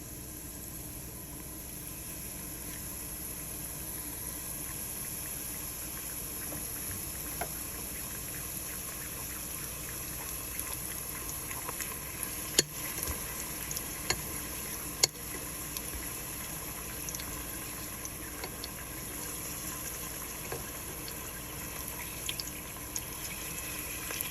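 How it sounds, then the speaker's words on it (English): Tortilla triangles fry in hot avocado oil in a pan, a steady close sizzle and hiss with scattered small pops and crackles and no talking throughout. "It got hot, so now I'm going to add our tortillas"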